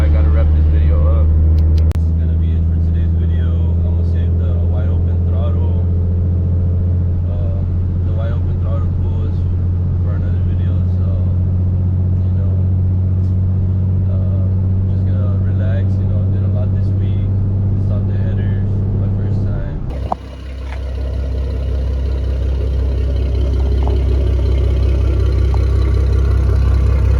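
A 2014 Ford Mustang with a modified x-pipe exhaust idles steadily and loud up close, a deep continuous rumble that shifts tone briefly near the end before settling back to idle.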